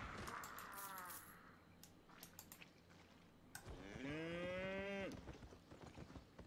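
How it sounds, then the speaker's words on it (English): Cows in the online role-playing game Albion Online give two long, low moos a few seconds apart over faint game sounds and footsteps. "Moo."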